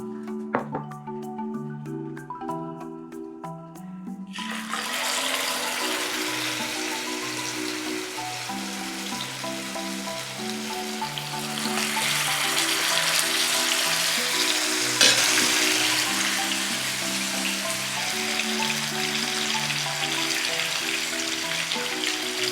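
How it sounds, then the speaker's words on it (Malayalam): Surmai fish deep frying in hot oil, a loud steady crackling sizzle that starts a few seconds in over background music, swelling slightly later on. "നമുക്ക് ഫിഷ് ഫ്രൈ ചെയ്തെടുക്കാം"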